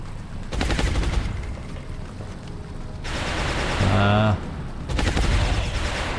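Rapid-fire gunshots in the XCOM strategy video game, a burst of game-weapon shots at the start and again near the end with a louder sci-fi effect between, loud over game music and sound effects.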